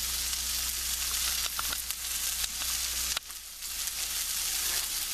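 Food sautéing in a pan gives a steady, close, bright sizzle throughout, with a few scrapes and taps from occasional stirring and a brief drop in the hiss partway through.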